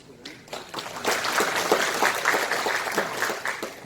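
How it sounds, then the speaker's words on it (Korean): Audience applause in a city residents' meeting hall greeting the mayor, clapping that builds from scattered claps into a steady crowd patter of moderate loudness, with voices mixed underneath. "시장님을 큰 박수로 맞이해 주시기 바랍니다"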